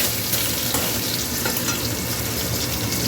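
Soya chunks fry in a pan, a dense, loud, continuous crackling sizzle that holds steady from start to finish, with faint stirring scrapes underneath.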